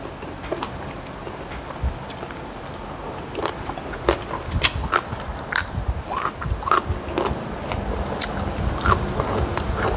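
Raw sesbania flowers are bitten and chewed close up during a meal of spicy papaya salad with fresh shrimp, squid and grilled fish, producing repeated crisp crunches and wet chewing clicks in an irregular rhythm.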